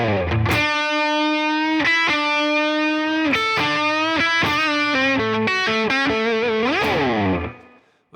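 Distorted electric guitar plays a bluesy boogie lick, about eight seconds of riffing with rapid note changes and chorus-like shimmer, ending in a bending, wavering final note before cutting off. No one speaks.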